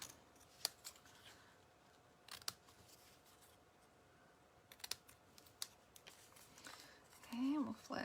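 Several sharp snips of scissors cutting, spaced irregularly, with a rustle of handling and a brief voice near the end.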